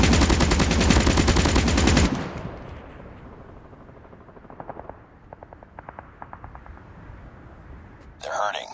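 Loud rapid machine-gun bursts from the mobile shooter Call of Duty Mobile, then quieter scattered shots and short bursts under game ambience, with a voice near the end.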